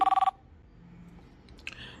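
Phone ringing with an incoming call: a short, loud electronic ring pattern of rapid repeated pulses at the start, cut off abruptly, followed by quiet room noise and a faint chime.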